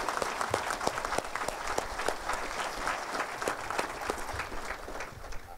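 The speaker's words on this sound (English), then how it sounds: "Please join me in giving these individuals a well-deserved round of applause." Sustained applause from a sizeable audience at a police academy ceremony, steady clapping with no pauses and no voices standing out.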